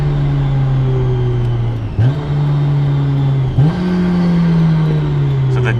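A steady, loud engine drone from inside a Honda S2000 CR, with the pitch dipping briefly at two gear shifts before climbing again as the car drives on.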